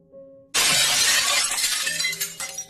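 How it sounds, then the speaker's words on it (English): Glass window shattering a few rooms away inside a house: a sudden loud crash at about half a second bursts into a long spray of tinkling, scattering shards that slowly thins out, with no voices. "I heard the sound of glass shattering from a few rooms over."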